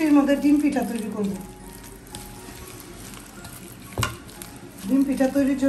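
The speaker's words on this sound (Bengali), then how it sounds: "ডিম পিঠা তৈরির জন্য ভালো মতো করে মাখিয়ে নিচ্ছি।" Egg batter for egg pitha being stirred briskly in a bowl in a home kitchen, a steady scraping, sloshing rhythm that pauses midway and resumes, with steady rain and household noise in the background.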